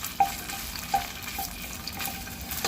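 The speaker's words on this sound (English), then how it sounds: "We'll also squeeze in a little bit of tomato paste. We want to add that to the oil just to cook off a little of that rawness" Tomato paste cooks in hot oil in a pan with a soft, steady sizzle and a couple of light utensil taps, faint and close.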